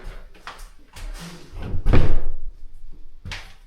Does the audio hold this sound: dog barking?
no